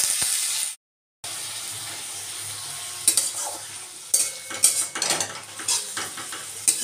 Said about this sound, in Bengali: একটু নেড়ে চেড়ে নিয়ে